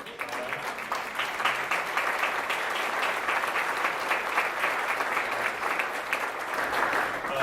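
A steady round of applause fills a foundation's inaugural luncheon, many hands clapping evenly at moderate distance with no pause, without speech over it.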